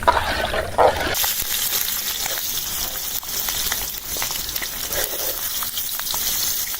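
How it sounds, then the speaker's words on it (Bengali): Vegetable and egg khichuri sizzling in a pan while being stirred, a bubbling, frying hiss with scattered scraping knocks and a brief louder clatter at the start. "আমি এখন একটা নাড়া দিয়ে ঢাকাতে দেবো"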